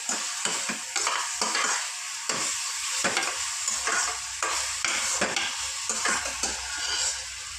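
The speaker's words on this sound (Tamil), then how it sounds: "நல்லா போட்டு கிளறி இருக்கணும் நல்லா வதங்கணும்" Masala for mutton curry being stirred and sautéed in a pan, with steady scraping strokes repeating through a continuous close, loud frying sizzle.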